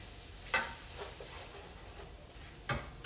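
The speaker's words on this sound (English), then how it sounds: "stir that around." Spring risotto being stirred in a pan, with a faint sizzle underneath and a few soft scraping strokes of the spoon against the pan, quiet and close, with no talk.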